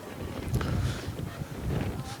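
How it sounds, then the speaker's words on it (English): Strong wind gusting across an open plain in Santry during a camogie match, buffeting the microphone with rumbling surges under a commentator's voice. "It's a really, really, really windy afternoon up here, a really open plain up here in Santry."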